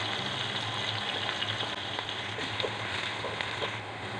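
Onions fry in a pan toward a light brown colour with a continuous, even sizzle and faint crackle, close by and moderately quiet, with no voices.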